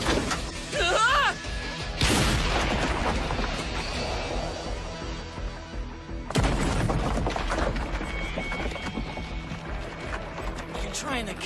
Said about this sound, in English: I'm firing on the enemy gun battery.